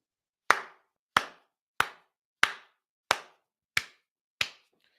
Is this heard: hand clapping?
yes